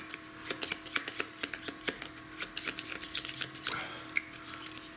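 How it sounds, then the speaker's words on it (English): Flamme Rouge board game cards being shuffled, a quick run of crisp papery clicks and flutters in uneven bursts, close by with no talking. "Trying to show you the shuffle"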